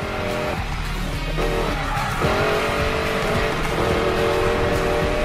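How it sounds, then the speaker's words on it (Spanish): Racing car engine roaring steadily with tires squealing and skidding in the video game Need for Speed Payback, loud and continuous throughout. "Coger el coche perfecto, ponerlo al máximo de prestaciones y meterme en la carrera definitiva"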